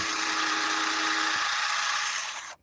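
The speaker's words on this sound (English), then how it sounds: "drilling through" Power drill boring through an arcade cabinet part, a steady, loud, bright whirring that holds for over two seconds before cutting off abruptly.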